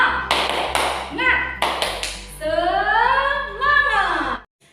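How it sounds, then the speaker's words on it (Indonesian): Classroom group clapping a rhythmic spirit clap in an elementary school lesson, sharp repeated claps in bursts followed by children's voices chanting together. "mari kita tepuk semangat terlebih dahulu"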